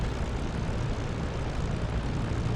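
Fighter plane engine at take-off in a flight simulator game, with the aircraft carrying two 500-pound bombs: a continuous, heavy propeller-engine roar, loud and steady throughout with no speech.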